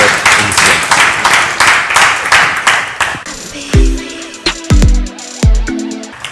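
Studio audience applause on a French talk show, dense clapping that carries on strongly for about three seconds, then fades into a few scattered claps and knocks.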